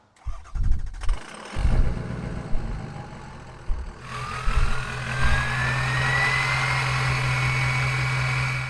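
A Ford 6.0 diesel tow truck engine cranks in a few rough bursts, catches, and settles into a loud, steady idle close by, with a rising turbo-like whine growing over the rumble.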